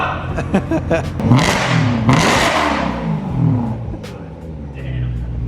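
A BMW E92 M3 fitted with a very loud aftermarket exhaust roars through several loud revs, rising and falling in aggressive bursts, close and harsh.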